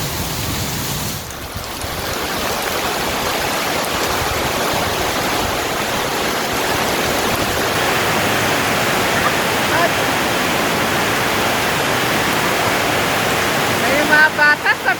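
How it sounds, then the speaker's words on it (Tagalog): Heavy rain pours down in a dense, steady hiss while children bathe and play in it outdoors, with voices talking and laughing under the downpour. "Ang sarap maligo sa ulan."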